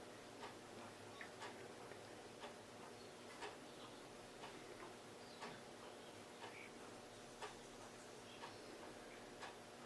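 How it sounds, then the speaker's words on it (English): A clock ticks steadily in a quiet room, faint, evenly spaced ticks about once a second over a soft background hiss. "just listening in the room right now, and I hear this ticking"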